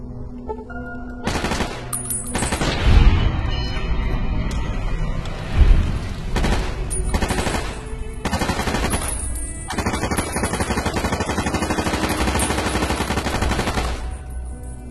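Sustained automatic gunfire in Fallout: New Vegas rattles loud and close, with rapid bursts, heavy thuds and short pauses between strings of shots.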